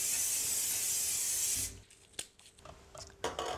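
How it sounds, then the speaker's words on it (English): Olive oil spray hisses into a hot pan for a steady burst of about a second and a half, then cuts off, leaving quiet clicks and small kitchen knocks. "spray on a little bit of our olive oil spray"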